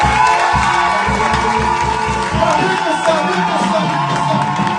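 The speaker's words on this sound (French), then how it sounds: "est-ce qu'une nouvelle fois, on peut acclamer le roi des rois?" A church congregation cheers and acclaims loudly, a dense crowd roar with shouts and whoops that holds steady and close throughout, a voice calling over it.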